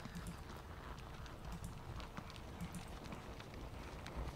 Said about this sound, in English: Quite a lot of horses there.